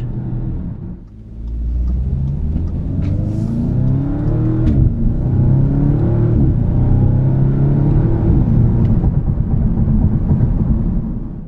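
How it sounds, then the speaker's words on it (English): A 2015 Audi S3 2.0T Quattro engine growls and revs up steadily, rising in pitch as it accelerates, with intake sound generator growl and deep rumble from its quad exhaust, loud and close throughout. "an intake sound generator that pipes in more growl and a standard quad exhaust out back"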